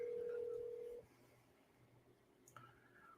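A telephone tone sounds steadily for about a second while a call is placed, then cuts off, followed by a quiet gap and a short electronic beep, faint against a low background hum.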